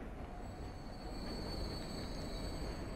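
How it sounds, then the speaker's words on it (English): A very long passenger train runs in the Transport Fever game, a steady rumbling rail drone with high whining wheel tones, continuous and fairly close, no voices. "Yeah, it's a very, very long train."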